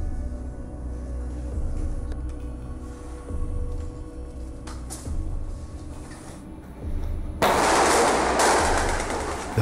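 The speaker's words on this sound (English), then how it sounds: "The constant blasting of whistles and the sound of machine gun firing adds to the cacophony of chaos." Machine gun fire crackles in bursts during naval combat diver training, with whistles blasting amid the chaos; a loud, broadband explosion-like surge near the end follows sharp intermittent reports.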